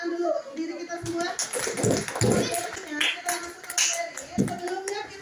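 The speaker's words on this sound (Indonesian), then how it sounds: "Bisa beri tepuk tangan dulu diri kita semua." A classroom of children clap their hands together, with scattered bursts of claps mixed into lively kids' voices and chatter throughout.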